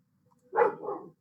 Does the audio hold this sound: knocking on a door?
no